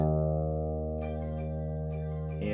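Electric guitar tuned down a half step and checked with a cheap clip-on tuner, a single sustained note ringing close and strong, with its pitch wavering slightly as a string is adjusted, no voices.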